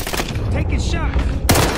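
Gunfire in a shooter video game, a dense rapid burst of shots heard close and loud, with game voices and sounds mixed in and another sharp blast at the end.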